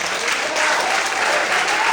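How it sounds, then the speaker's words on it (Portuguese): Church congregation applauding loudly during a sermon, a dense, sustained roar of clapping that fills the room evenly from start to finish. "Você pode aplaudir esse Deus bem forte."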